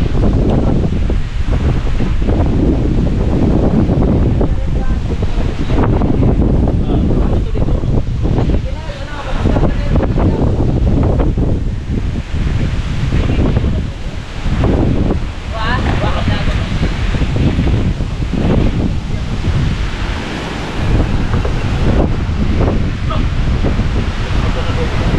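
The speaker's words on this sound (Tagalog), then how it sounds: "Ito na yung hangin." Strong typhoon wind roaring across the Batangas coast, with crashing surf and heavy buffeting on the microphone filling the whole stretch at constant loudness; voices talk faintly beneath the gusts.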